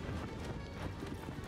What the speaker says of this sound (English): Horse. Give me my horse.